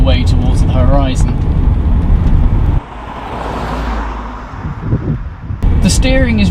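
A V12 Jaguar XJ-S accelerating hard, its loud, close engine roar filling the cabin while someone talks over it, then briefly heard on its own before the talk resumes.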